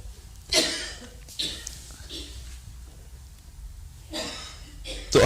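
Several short, harsh coughs from a person during a talk, with breathy pauses between bursts, close and fairly loud.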